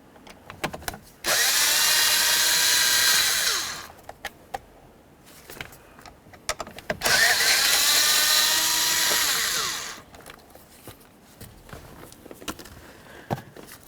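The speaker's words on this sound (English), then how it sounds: "We'll continue on by removing our two T25 mounting bolts." Power tool driving out T25 mounting bolts from a 2007-2012 Dodge Caliber steering wheel, two loud close whirring bursts of about two to three seconds each, separated by clicks and handling noise.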